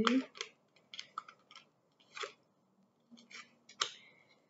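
Tarot cards being turned over one after another on a table, a series of crisp, close paper flicks and snaps in quick irregular bursts, with a soft voice now and then.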